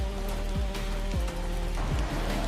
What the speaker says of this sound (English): I will be right here on this rooftop in this rain for as long as it takes.